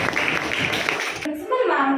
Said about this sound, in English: A good round of applause to them.